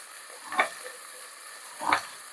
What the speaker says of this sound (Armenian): Մի քիչ էլ բազուկ կտրտեմ, կլցնեմ մի քիչ հետը տապակվի